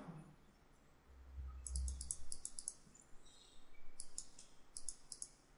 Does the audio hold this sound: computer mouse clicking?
yes